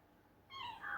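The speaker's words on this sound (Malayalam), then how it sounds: "നമ്മുടെ ക്യാറ്റ്സ് ആട്ടത്, നമ്മുടെ പൂച്ചക്കുട്ടികൾ." Kittens give one short, close meow after a moment of near silence, heard alone and fairly clear.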